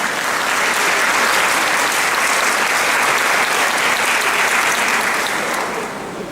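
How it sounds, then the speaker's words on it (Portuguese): A seated audience at a public seminar bursts into loud, dense applause that holds steady for several seconds before tapering slightly at the end. "Uma salva de palmas, por gentileza."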